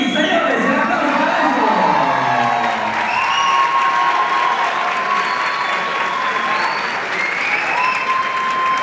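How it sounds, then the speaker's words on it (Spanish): Crowd applause for dancers Nahir Romano and Maxi Solís at the Comadreja Bachata Congress 2014, a dense, steady clapping that fills the room throughout, with scattered cheers and whistles rising above it. "el aplauso para"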